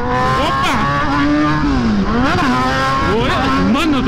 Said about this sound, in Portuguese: Mano do céu, essa moto é monstra, né, rapaziada?